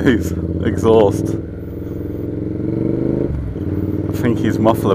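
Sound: loud exhaust of a passing vehicle

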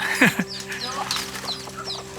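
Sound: flock of chickens clucking

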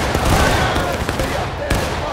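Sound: gunfire volley in a video game

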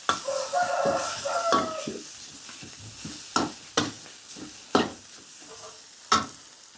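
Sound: stir-frying chopped sun-dried pork with red curry paste

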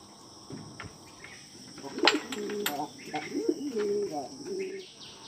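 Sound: pigeons eating grain

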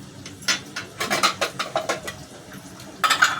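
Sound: idli steamer pot being greased with oil

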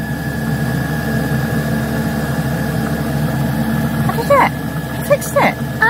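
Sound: diesel heater running, blowing hot air after filter fix

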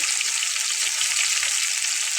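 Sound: chicken frying in pan

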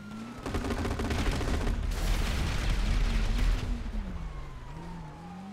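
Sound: gunfire in a video game

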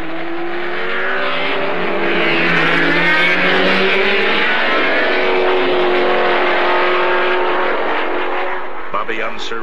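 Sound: race cars racing at the 1973 Indianapolis 500

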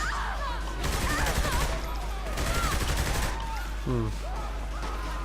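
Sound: gunfire in the video game Saints Row the Third

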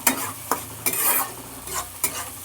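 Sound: spices frying in a pan

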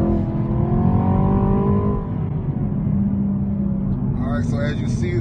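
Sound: Chevrolet Camaro 2SS V8 accelerating hard

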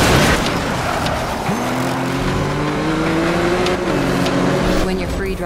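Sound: car driving in Need for Speed Rivals video game

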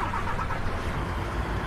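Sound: DAF 95 truck engine starting, from Euro Truck Simulator 2 video game

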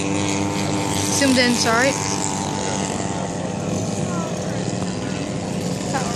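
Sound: planes taking off from runway at warbird airshow

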